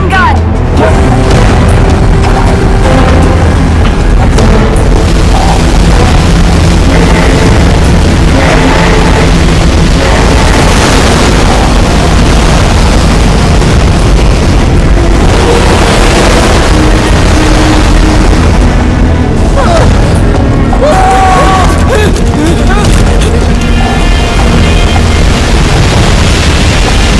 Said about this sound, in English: Prepare to fire, main gun!